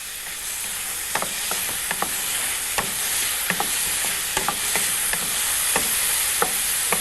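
Onions sizzle steadily in a hot pan for macaroni béchamel, a continuous bright hiss broken by frequent soft scraping stirs, close and fairly loud with no voices.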